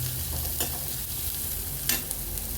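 Onions and shallots sauté in a pan with a steady, close sizzle, and a spoon scrapes through them a couple of times. No one speaks.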